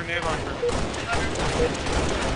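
Rapid sniper and assault gunfire crackles through a team shooter video game match, dense overlapping shots filling the whole stretch while players talk over it.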